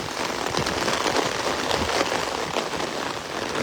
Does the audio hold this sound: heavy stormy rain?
yes